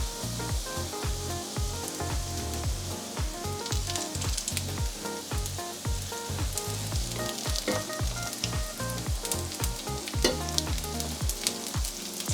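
Quinoa, tuna and potato patties sizzle steadily in a pan over medium heat, a loud continuous crackle with scraping stir sounds throughout and no talking.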